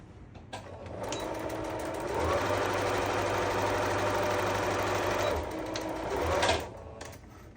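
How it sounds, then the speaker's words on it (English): A sewing machine runs a straight-stitch quarter-inch seam on a pecan pie quilt block, a steady close whirring hum that holds for several seconds before slowing and stopping. "sewing down 1 side. Straight stitch, 1/4 inch seam, back stitching when you start and when you stop"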